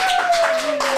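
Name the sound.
audience applause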